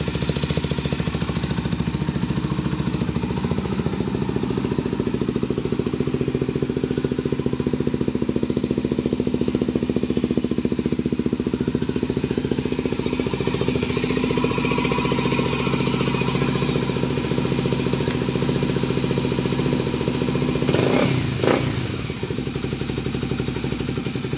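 A Kawasaki Ninja 250cc motorcycle engine idling nearby, a loud, steady, rough mechanical drone that holds unbroken throughout, with a brief clatter near the end.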